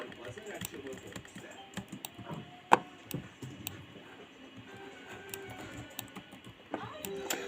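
Rapid, uneven clicking of keys on a computer keyboard, close and fairly quiet, with one louder keystroke partway through and brief pauses between bursts.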